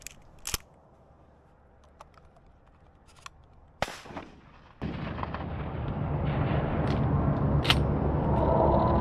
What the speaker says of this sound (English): Finally, a little bit of good shooting.